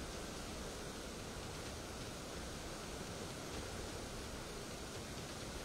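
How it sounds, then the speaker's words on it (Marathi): Steady, loud rushing roar of water discharged from Gangapur dam in Nashik at 2720 cusecs, a dense unbroken flow with no pauses or voices. "सध्या धरणातून 2720 क्युसेक वेगाने पाण्याचा विसर्ग सुरू करण्यात आलेला आहे"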